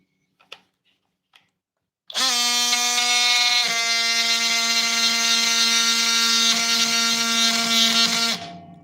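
After a couple of faint clicks, an oscillating multi-tool starts and runs for about six seconds with a loud, steady high-pitched buzzing whine, then cuts off abruptly.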